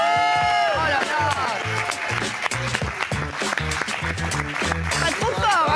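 Studio audience clapping and cheering for a chef's entrance on a French TV show, loud and continuous, with music and voices running through it.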